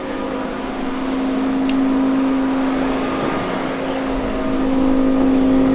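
Datsun 240Z with an L28ET turbo engine idling after starting, a steady droning rumble with a constant hum, fairly loud and close, no talking.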